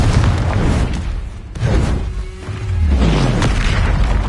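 Confringo blasting spell explosions from Hogwarts Legacy, a series of loud, heavy booms with deep rumbling low end, several bursts following one another over a few seconds.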